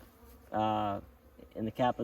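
Honey bees buzzing loudly at a newly installed hive, a steady close drone of about half a second followed by several shorter, choppy bursts.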